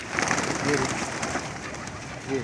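A female pigeon gives two brief, low coos against a loud, noisy outdoor background, the calls faint and partly masked.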